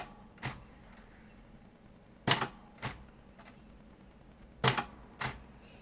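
A manual typewriter striking keys to bold text, with sparse crisp clacks arriving in close pairs separated by short pauses, near and distinct over quiet room tone.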